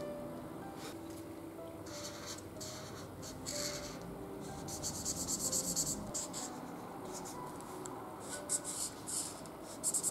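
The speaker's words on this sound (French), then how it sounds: "on va utiliser les Touch Cool, la couleur 47, donc ça s'appelle Green, et on va venir colorier tout le haut de la tête" Touch Cool alcohol marker in colour 47 Green being stroked across paper to colour in a drawing, soft scratchy rubbing strokes coming in quick bursts, quiet and close with no talking.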